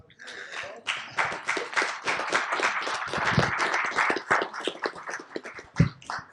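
An audience at a lecture claps, sharp uneven hand claps rising and falling in irregular bursts, fairly quiet and without talk.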